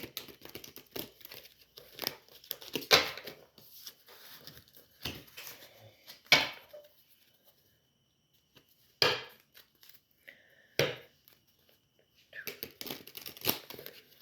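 A deck of tarot cards is shuffled by hand in irregular bursts of soft slapping and crinkly rustling, with quiet gaps between, close by.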